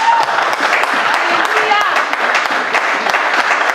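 A church congregation at a youth service claps steadily and continuously, a loud close wash of applause mixed with crowd voices.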